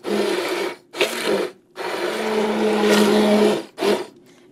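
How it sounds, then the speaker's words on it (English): An immersion blender whirs in several bursts, buzzing steadily as it purees stewed tomatoes, with short pauses between runs; no one speaks. "Now, we can hit them with the immersion blender."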